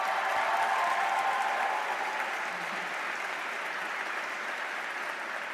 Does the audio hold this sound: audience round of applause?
yes